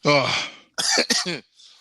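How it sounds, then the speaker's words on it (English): A short burst of coughing and throat clearing up close, two or three rough hacks in quick succession. "See, he's coughing mad."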